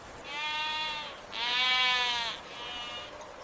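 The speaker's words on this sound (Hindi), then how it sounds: "ये अवासी नस्ल की भेड़ें हैं" Awassi sheep bleat in three drawn-out, strongly harmonic calls, the middle one loudest, close by with no talking.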